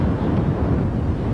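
Strong wind buffets the microphone during a marathon on the Humber Bridge, a loud low rumbling roar that fills the short moment with no other sound.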